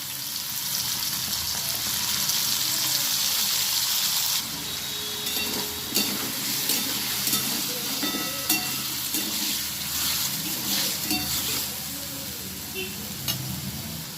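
Ginger-garlic paste and onion paste hitting hot oil with fried potatoes for a fish-head potato curry, giving a steady close sizzle with stirring scrapes and small clinks throughout.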